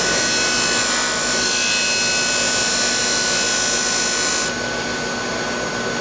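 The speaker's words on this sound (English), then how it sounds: "That last little bit I'll get on my spindle sander." Spindle sander working a wooden cigar box guitar part, a loud, steady whining motor drone with a gritty sanding hiss that drops slightly near the end.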